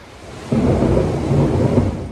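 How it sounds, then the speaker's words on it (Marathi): Thunderstorm with rain, a soft rain hiss that swells suddenly into a loud, close rumble of thunder lasting to the end. "पाऊस थांबायचं नावच घेत नाहीये"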